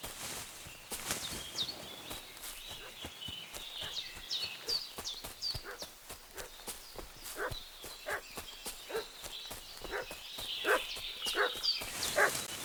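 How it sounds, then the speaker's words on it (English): Dog barking in the medieval role-playing game Kingdom Come: Deliverance II, repeated sharp barks sounding moderately near over a busy outdoor game ambience with clopping hooves and footsteps. "What's that dog making such a fuss about?"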